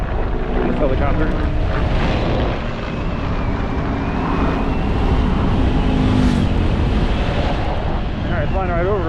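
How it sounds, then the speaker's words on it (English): A water-dropping helicopter passes overhead in Azusa Canyon, heard as a distant rotor drone under heavy wind buffeting on the microphone while a person talks. "That's a water dropping helicopter."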